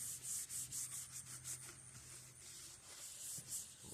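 A cloth rubs back and forth over a rough-sanded truck dash in a square-body pickup, giving soft rhythmic swishing strokes that stay steady and close for the whole stretch.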